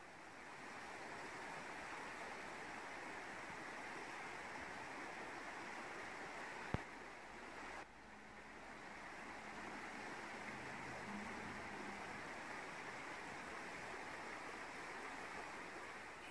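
A shaded forest waterfall cascading steadily, a dense broadband rush of falling water that stays loud and even throughout, with a brief click partway and no voices.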